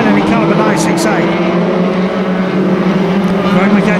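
BriSCA F1 stock cars race around a Kings Lynn oval, engines roaring in a steady, loud, dense drone with a mix of near and distant cars, while a commentator talks over the noise throughout.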